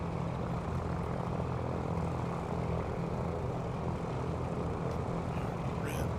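A Cessna propeller plane in Microsoft Flight Simulator drones with a steady, loud engine and prop roar that holds evenly throughout, with faint radio-style voices briefly over it.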